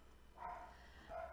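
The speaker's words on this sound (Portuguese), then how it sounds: "cachorro latiu." A dog barks twice at a distance, faint and muffled, two short yelps separated by a pause over a quiet room hum.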